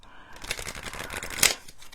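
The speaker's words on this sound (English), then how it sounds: "I keep seeing in my head to give it a good shuffle" A deck of playing cards being shuffled, a short burst of riffling clicks building to a sharp flutter near the end, close and fairly loud.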